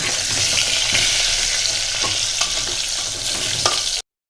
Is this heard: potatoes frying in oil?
yes